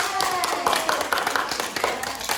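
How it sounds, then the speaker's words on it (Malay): Students in a classroom give a short burst of hand clapping, a quick run of sharp claps close by while a voice talks over them. "Tepuk tangan."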